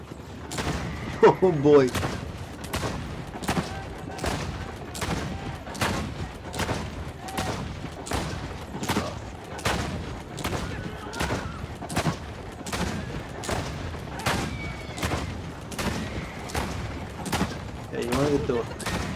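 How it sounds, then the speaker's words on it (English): A mounted machine gun fires in Assassin's Creed Brotherhood, a long run of steady, evenly spaced heavy shots booming for nearly twenty seconds, with someone talking briefly over the fire. "Using the machine gun."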